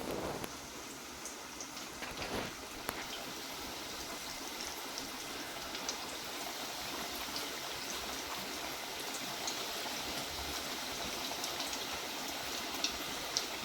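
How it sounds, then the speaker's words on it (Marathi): Rava and potato tikkis coated in breadcrumbs frying in hot oil, a steady, fairly quiet hiss and crackle, like light rain, continuing throughout with a few sharper pops near the start. "आता ह्या टिक्क्या पण तुम्हाला तळून दाखवते."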